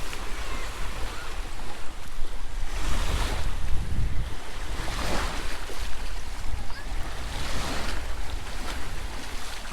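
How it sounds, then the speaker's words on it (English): Sea waves wash onto Alcudia beach in Mallorca, a steady roar of surf with slow swells of breaking water, heavy wind buffeting the microphone throughout. "I just love listening to the sea."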